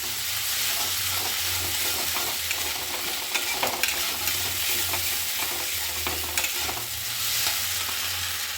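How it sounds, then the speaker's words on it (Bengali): Marinated food coated in chili powder fries in a small amount of oil in a home kitchen, giving a steady, close sizzle with bursts of stirring scrapes throughout and no talking. "আগে ভেজে নিচ্ছি ভালো করে"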